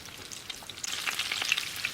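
Potatoes fry in butter in a pan with a soft, continuous sizzle and light crackle, fairly quiet and close, without voices.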